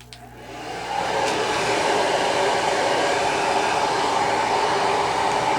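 A hair dryer starts up and then blows steadily at close range, a loud continuous rushing whoosh with no talking over it.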